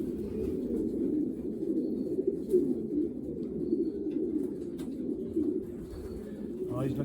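A racing pigeon coos in low, continuous throaty rumbles while being handled, close and steady throughout, with faint background noise.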